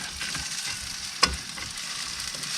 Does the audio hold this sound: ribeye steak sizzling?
yes